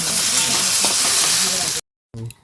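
Pumpkin, potato and soybean chunks sauté in a pan with a loud, close sizzle and faint stirring, which cuts out abruptly into silence before a short burst of sound returns.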